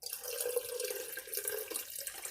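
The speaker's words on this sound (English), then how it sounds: "I'm going to give her a little extra water." Water poured steadily into an orchid's water culture container, a continuous close splashing trickle that lasts throughout with no speech.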